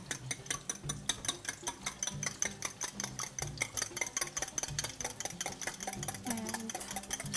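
Eggs, six or seven of them, whipped briskly in a bowl for a basterma dish, a fast steady run of rhythmic clicking whisk strokes close by, continuing without pause and with no talk.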